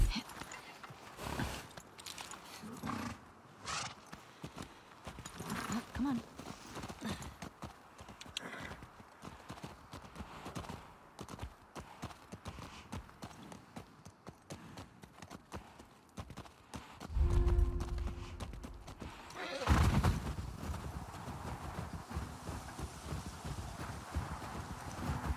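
Steady clip-clop of horse hooves walking, close by, in the video game The Last of Us Part II, with a few heavier thuds and a brief rustle near the end.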